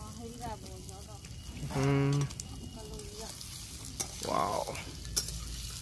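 Paneer frying in hot oil in a kadhai over a wood fire in a village kitchen, a steady sizzle with stirring scrapes throughout, while people talk close by and one voice exclaims.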